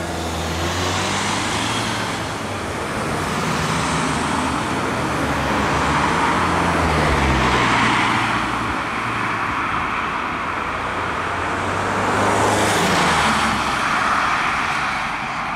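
Road traffic passes through UK roadworks controlled by temporary traffic lights, producing a continuous loud wash of vehicle noise that swells and fades as cars go by, with engine rumble underneath and no talking.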